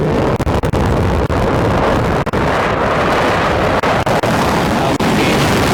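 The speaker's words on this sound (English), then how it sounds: "There's that engine relighting" A rocket booster's engine relights during descent, giving a loud, continuous, close roar like rushing wind that holds steady throughout, with faint crackles on top.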